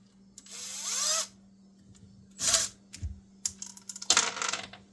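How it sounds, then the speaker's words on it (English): Metal bolts drop and clatter onto a hard surface during a Sea-Doo 951DI stator replacement, a few scattered clinks and rattles close by, with brief scraping sounds between them. "gotta love dropping bolts"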